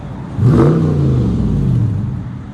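A Dodge Charger Scat Pack with a 6.4L HEMI V8 and aftermarket exhaust revs hard once after a quiet moment, a loud deep rising roar that holds and slowly falls off, heard from inside the car.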